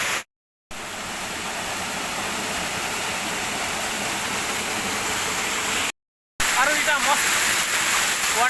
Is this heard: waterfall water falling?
yes